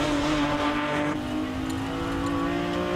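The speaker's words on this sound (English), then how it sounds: "David Kempton on board with him, climbs now up towards Quarry" A BMW Z3 Coupe race car climbs toward Quarry corner at Castle Combe circuit, its engine a steady, loud, close drone with strong harmonics held over three seconds and no voices.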